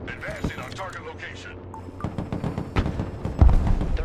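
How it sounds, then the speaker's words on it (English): Heavy explosions and gunfire from Sheridan light tanks blasting targets in the Broken Arrow war game, a string of booming impacts that build louder toward the end, with a voice talking over part of the barrage. "Getting blown to pieces by the Sheridans."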